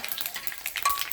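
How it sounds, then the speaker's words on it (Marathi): Cumin and curry leaves crackle and sizzle in hot oil for a tempering, a quiet burst of sharp popping and spitting that lasts only a moment, with no voices. "जिरं आणि कडीपत्त्याची फोडणी"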